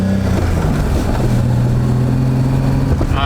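A BMW E30 with a freshly rebuilt front suspension drives along, its engine droning loudly from inside the cabin, pitch shifting as it accelerates.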